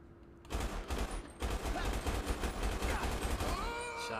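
Rapid video game gunfire erupts in dense bursts, with loud repeated shots crackling for several seconds after a brief quieter start.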